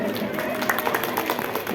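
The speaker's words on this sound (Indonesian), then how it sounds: "tepuk tangan boleh" Guests at a traditional Sundanese wedding clapping steadily in a dense, continuous patter, with crowd voices blended underneath.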